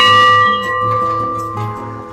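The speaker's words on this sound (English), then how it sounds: "A cheers to that bell." A large bell rung at a vineyard sounds once, loud and close, and its sustained metallic tones hum and slowly fade without any voices over them.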